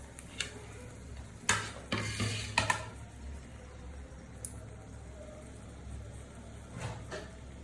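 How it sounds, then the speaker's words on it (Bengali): Dried chillies dropped into a wok of hot mustard oil give a few short, soft bursts of sizzling and crackle, separated by quiet stretches with faint background hiss. "আমি কয়েকটি শুকনো মরিচ দিয়ে দিচ্ছি"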